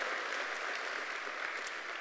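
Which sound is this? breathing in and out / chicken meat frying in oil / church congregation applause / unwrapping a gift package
church congregation applause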